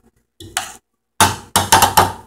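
A spoon stirs taco seasoning and water into cooked ground beef in a pan, giving a few sharp clanks and scrapes against the metal in quick bursts, close by with no talk.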